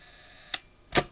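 A Hasselblad 80mm lens shutter pre-fires with two sharp mechanical clicks about half a second apart, close and alone in a quiet room.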